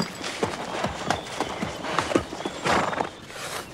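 A ridden racehorse's hooves clip-clop in a steady, quick rhythm at moderate distance, with a whinny rising among the beats and faint background noise underneath.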